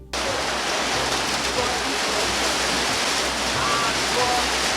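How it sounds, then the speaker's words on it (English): Steady, heavy rain pours down at a facility in Otukwadwo, Ghana, whose roof leaks badly. It makes a loud, unbroken wash of noise that runs through the whole stretch with no clear breaks. "it suddenly started raining whilst we were still at the facility"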